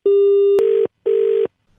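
Telephone busy tone after a hung-up call: a loud, steady tone holds for over half a second, then breaks into two separate on-off beeps, with no voices.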